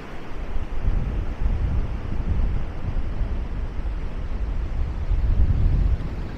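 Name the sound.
strong wind on the beach in Maspalomas, Gran Canaria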